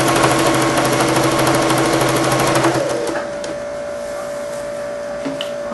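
Sewing machine stitching quilt binding onto a baby blanket, a loud, close, continuous mechanical whir that slows and fades partway through into a quieter hum.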